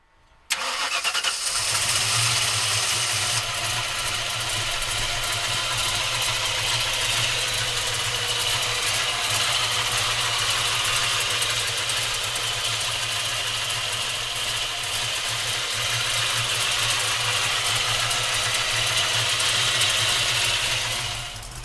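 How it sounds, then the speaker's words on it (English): A 1968 Ford Mustang with a custom hood cranks briefly, then catches and settles into a loud, steady, rumbling idle close by that holds for about twenty seconds with no talk. "we're gonna fire this baby up for you right now"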